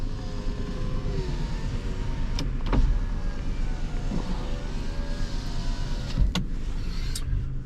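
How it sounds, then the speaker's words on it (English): Electric window motors of a 1997 Toyota 4Runner hum steadily as the driver's and passenger's windows run up and down, with a few brief clicks and thumps as each window stops, and no talking. "I'm gonna test out the power windows, driver's window, passenger's window."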